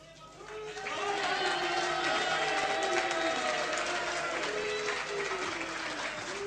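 A large crowd outside a hall greets a politician's victory speech at the Hillhead by-election with a sustained roar of mixed cheering and booing, dense and loud from start to finish.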